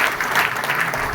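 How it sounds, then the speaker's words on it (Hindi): Loud, dense clapping from an audience at an indoor marketing company seminar, a steady wash of applause filling the whole short moment without pause. "तो अपने आप एक जोरदार तालियां"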